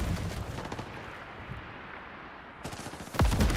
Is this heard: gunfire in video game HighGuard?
yes